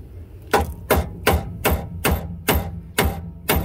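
A sledgehammer striking a steel sway bar on a Dodge Ram pickup, eight sharp metallic blows in a steady rhythm about every half second, close and loud with no talking.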